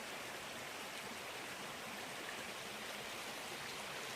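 A trail-side stream at a hiking water source flows steadily down a hillside, a continuous close rush of water with no pauses and no voices.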